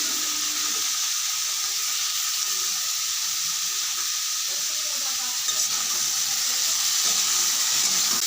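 Boiled young jackfruit pieces fry in hot oil in a wok, a steady bright sizzle that holds at constant level throughout with faint clinks of stirring and no talk.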